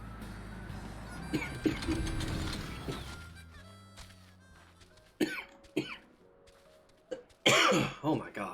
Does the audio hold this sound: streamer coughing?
yes